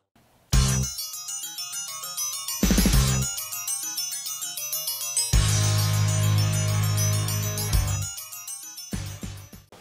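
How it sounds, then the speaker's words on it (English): Triangle played at school alongside other children's instruments, heard as bright, sustained metallic ringing in several separate bursts of struck tones that sound over about nine seconds with short gaps between them, loud and close, with no talking. "This is Badger on the triangle."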